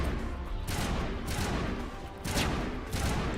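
Gunfire in the Mass Effect video game rattles in dense, continuous bursts, with several sharper volleys and booming impacts over a constant roar of battle.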